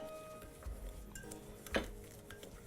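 Softened butter and sugar are mixed in a bowl for a mawa cake, with faint soft scraping and a few quiet clinks of utensil against the bowl, one sharper knock standing out.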